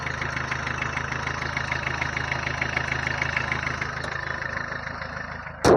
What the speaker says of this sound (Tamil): இன்ஜின் சவுண்டு கணீர்னு இருக்கும்